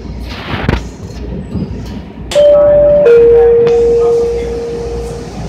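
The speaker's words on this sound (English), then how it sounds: "The doors will open on the right side of the train." A sharp double chime sounds, followed by thuds and a sliding hiss as MBTA Blue Line subway doors open, over a low steady rumble.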